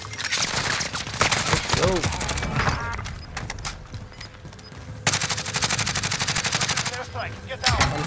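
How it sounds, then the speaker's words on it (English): Rapid automatic gunfire in a shooter video game, dense bursts of crackling shots in long volleys with a brief lull midway, while a player speaks briefly over it. "Oh, yo, I'm getting shot at."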